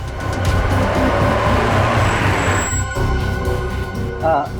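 Ali's car runs with a loud, steady engine and road rumble, then cuts down sharply near the end, leaving quieter idle and a brief bump.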